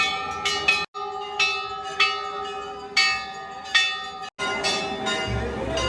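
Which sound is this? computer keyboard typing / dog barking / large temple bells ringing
large temple bells ringing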